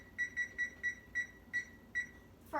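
A kitchen timer gives eight short evenly spaced electronic beeps as its buttons are pressed to set it for baking pancake muffins, quiet and close, with a brief clatter at the end.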